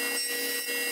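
Table saw blade cutting through wood as the stock is pushed forward, a steady high-pitched whine with rasping cut noise, close and continuous for about a second with no talk.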